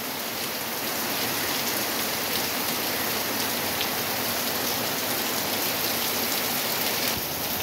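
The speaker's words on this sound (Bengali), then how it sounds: "মুষলধারে বৃষ্টি শুরু হলো" Heavy rain pours down steadily in a sudden afternoon downpour, a dense, continuous hiss of drops hitting surfaces close by, loud and unbroken for the whole stretch with no voices.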